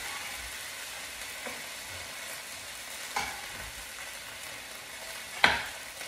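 Garlic frying with Thai red curry paste in a pan, a continuous moderate sizzle broken by a few sharp spoon scrapes and clinks, no talking.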